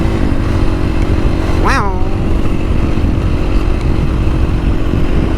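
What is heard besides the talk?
Husqvarna 450 FS motorcycle revving with stock exhaust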